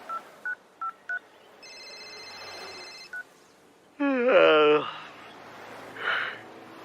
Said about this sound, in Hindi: मैंने सबसे पहले सूरज सिंह जी को फोन लगाया।